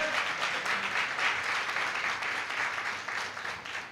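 Church audience at a field training programme clapping loudly and steadily, a dense, sustained burst of applause filling the room with no voices over it.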